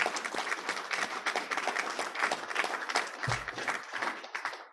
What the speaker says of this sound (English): I want a round of applause for the staff